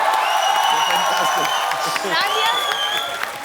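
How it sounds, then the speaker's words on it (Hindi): Studio audience claps and cheers for a performer named Sugandha on a comedy talk show, a steady wash of applause with whoops, mixed with voices throughout. "सुगंधा के लिए जोरदार तालियां।"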